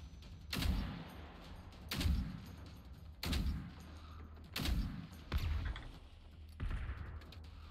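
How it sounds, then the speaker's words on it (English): Gunshots in the shooter game Generation Zero, six loud booming shots spaced roughly a second or more apart, each with a long rumbling echo, heard alone. "That was a nice little shot through the gap there"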